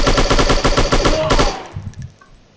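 Rapid automatic gunfire in the shooting video game Strike Offline, a loud close burst of evenly spaced shots for about a second and a half, then stopping with fading echoes and a few faint clicks.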